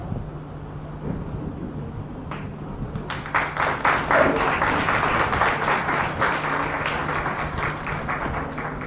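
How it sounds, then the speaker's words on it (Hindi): Audience applause welcoming guests at a church youth retreat, starting faintly and then swelling into sustained, dense clapping from a large crowd that continues steadily to the end. "हम उनका तालियों से स्वागत करेंगे।"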